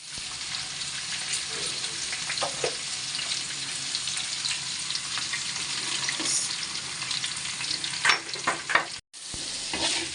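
Shrimp, onion and greens frying together in a pan sizzle steadily up close, with stirring scrapes and clatters growing busier near the end and a brief cut-out, with no talk.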